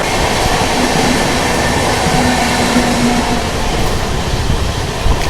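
A Mumbai–Haridwar LTT AC superfast express running flat out near 130 km/h beside the Tamil Nadu Express, a loud steady roar of wheels and rushing air with a faint humming tone throughout.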